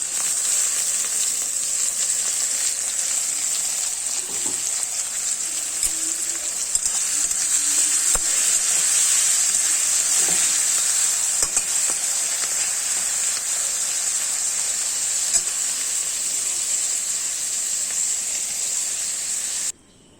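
Chopped onions, ginger, green chili and tomato frying in a pan make a steady, bright sizzle that runs unbroken for about twenty seconds, with a few faint stirring scrapes and no talk, then stops abruptly.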